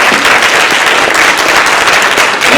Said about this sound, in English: Let's give all of our speakers tonight a round of applause.